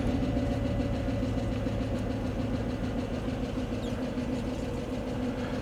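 A rare Mercedes coupe engine idles steadily at close range, a low continuous rumble with no revving and no voices over it.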